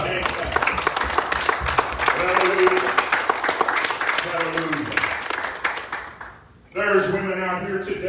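A church congregation applauds mothers during a sermon, with brisk clapping mixed with voices calling out, then a short dip before loud speech resumes.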